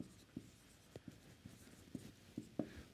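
Chalk or pen writing on a board during a lecture, a faint, sparse series of short taps and strokes at an uneven rhythm, heard alone in a quiet room.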